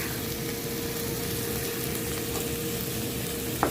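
Squid sautéing in a hot pan with chili, black pepper and salt, giving a steady, even frying sizzle that stays loud and unbroken, with one brief clink near the end.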